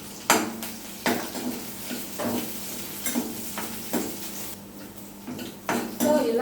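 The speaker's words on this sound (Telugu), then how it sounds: "అల్లం తరుగు చక్కగా ఇలా ఫ్రై అయిపోయిన తర్వాత నెక్స్ట్ పచ్చిమిర్చి వేసుకొని లైట్గా ఫ్రై చేసుకోండి" Green chillies and chopped ginger frying in a pan for temple-style pulihora, with a soft sizzle under repeated metallic clinks and scrapes of a spoon stirring against the pan.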